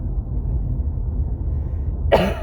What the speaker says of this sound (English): I think this cough should be minimalized.